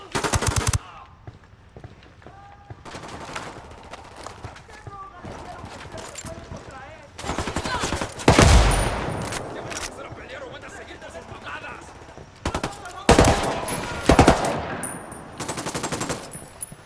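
Machine guns rattle in bursts during a video game firefight, with dense rapid fire, louder close volleys and shouting voices throughout.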